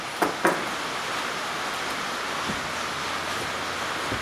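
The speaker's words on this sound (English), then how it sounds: "It's raining cats and dogs out." Heavy rain falling outside during a tractor loader repair, a steady dense hiss with a couple of brief knocks near the start, fairly close and continuous, no talking.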